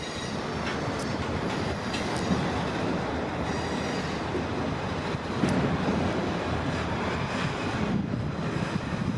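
A slow-moving train with mixed cars rolls past close by, producing a continuous heavy rumble and wheel noise with faint squeals and some wind buffeting, without any voices.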